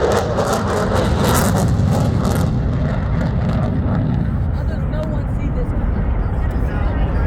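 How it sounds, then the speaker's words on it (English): A stealth fighter jet roars past at an airshow, loud and broadband, the rumble swelling at first and then thinning as it recedes into a lower, steadier drone. "It's loud. How's it stealth? Stealth fighter."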